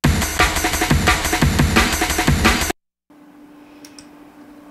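A busy, punchy jungle breakbeat drum loop plays loud for under three seconds, then cuts to silence followed by a faint low hum.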